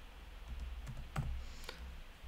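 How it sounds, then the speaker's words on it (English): Typing and clicking on a computer keyboard, several soft scattered key taps over a low steady background hum, faint and close. "I'm just going to click that flashing line to be able to type."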